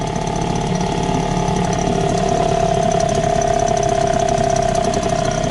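A new Chinese outboard boat motor runs continuously during break-in, giving a loud, close, steady mechanical drone with a rapid knocking rattle throughout and no speech.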